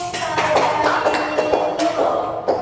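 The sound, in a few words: applause, clapping for a student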